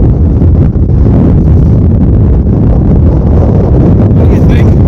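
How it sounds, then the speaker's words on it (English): Strong wind on a hilltop above Wastwater in the Lake District roars and buffets the microphone throughout, a loud, constant low rumble with gusty surges. "It's pretty crazy windy up here."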